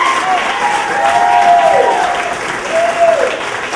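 An audience at a harmony jam concert applauds, loud dense clapping sustained throughout, with a voice briefly heard over it.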